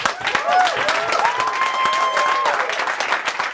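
Audience applause at a live show, steady dense clapping with whoops and cheers and a whistling tone in the middle, loud and close throughout.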